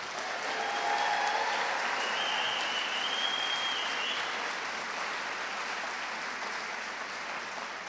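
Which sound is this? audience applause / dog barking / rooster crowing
audience applause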